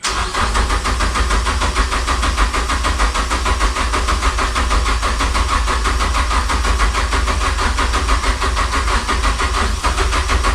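Ford Sierra Sapphire engine cranking and firing up, then running loud and steady at raised revs for about ten seconds, close up and dense, with no talk over it.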